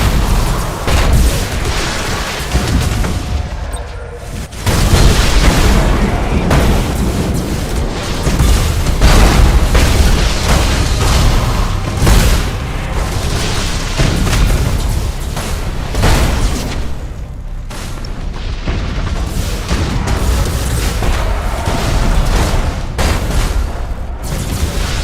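Heavy warship main battery salvos and explosions in the space-combat game Battlefleet Gothic Armada 2 roll on continuously as loud, dense booming and rumbling, with repeated bursts layered over one another.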